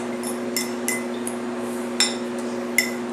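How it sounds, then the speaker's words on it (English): A utensil clinks sharply against a bowl while vegan slaw is stirred with pineapple juice, giving several light, irregular taps over a steady low hum. "Going to mix it up like that."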